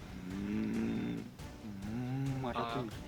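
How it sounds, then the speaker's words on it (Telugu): A cow moos twice, long low calls close by, with a person speaking briefly in between. "ఆవురా"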